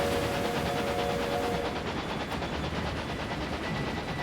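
Trains departing in the video game Railway Empire 2 make a dense, continuous rumble with rapid rhythmic clatter and a few faint tonal whistles, loud and steady throughout.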